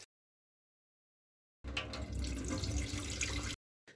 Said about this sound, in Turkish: bu zeytinimi de 3-4 su yıkıyorum